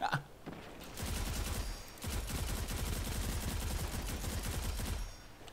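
Sustained rapid automatic gunfire in Destiny 2 rattles almost continuously for about four seconds, loud and dense, with a brief break before the second burst.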